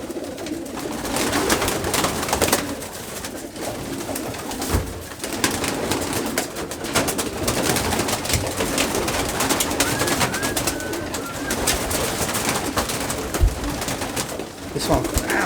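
Pigeons coo now and then in a busy loft while they are being trapped, their soft calls half buried under steady rustling, wing flaps and handling noise, with occasional talk over it.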